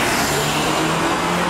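A Toyota car accelerates close by, a broad, steady engine roar with road noise that holds loud through the short moment, with no talk over it.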